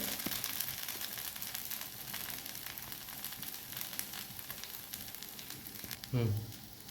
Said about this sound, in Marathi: दोन्हीकडून छानपैकी असं डोसाला शेकून घ्यायचं आहे.